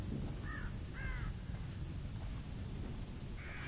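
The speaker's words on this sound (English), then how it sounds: "The birdies, crows. I was half expecting them to attack me." Crows cawing in The Evil Within video game, three short harsh caws spaced apart over a steady rain-like wash of ambient noise, fairly faint and with no talk.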